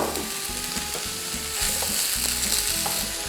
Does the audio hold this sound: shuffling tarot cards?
no